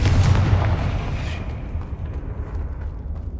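A Confringo spell blast in Hogwarts Legacy, a loud fiery explosion bursting at the start and then rumbling away into a low lingering boom.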